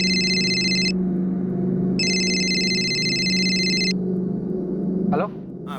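A phone rings in two long electronic trilling bursts separated by a pause, over a steady low hum, then a brief voice at the end.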